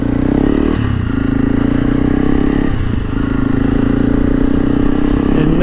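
Two trail motorcycles, a Kawasaki KLX230S with a low seat and a Honda CRF300L Rally, ride off together with loud, steady engine drone close by, dipping briefly twice before holding a constant note.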